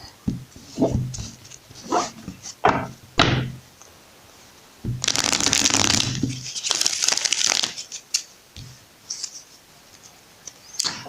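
Oracle cards handled up close: a few taps and thumps, then a sustained riffling burst of shuffling, followed by lighter scattered card sounds.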